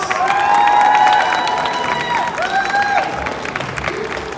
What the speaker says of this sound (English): Please give a huge round of applause to Steve Cardenas!